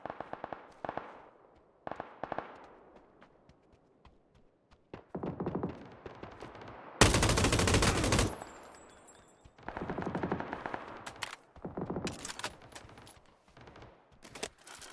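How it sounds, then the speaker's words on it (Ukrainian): Bursts of machine gun fire in the battle royale shooter PUBG, a sharp, loud rattling volley mid-clip framed by shorter automatic bursts and scattered distant shots. "Я з цим кулеметом клюєшусь."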